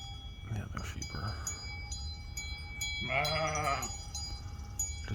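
A ewe and flock of sheep: a loud wavering bleat midway, close by, with softer bleats earlier and a steady outdoor background hum.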